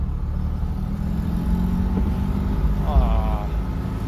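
A small Fiat car's engine runs smoothly while driving, a steady low hum under road noise with a brief higher whine partway through.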